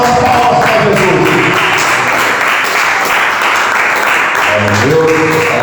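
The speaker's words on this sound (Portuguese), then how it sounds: "Receba o nosso pastor com as palmas para Jesus." A church congregation claps for the pastor, loud and sustained dense applause filling the space, with music-like tones and voices running underneath.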